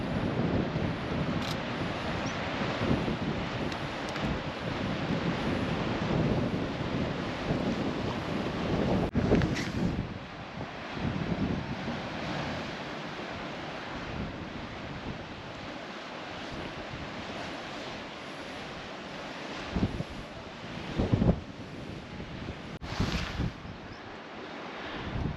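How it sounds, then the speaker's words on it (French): Ocean surf washing onto the Brittany coast with a freshening sea wind gusting across the microphone, a steady broadband roar with louder swells and bursts, no voices. "il y a le vent qui s'est relevé"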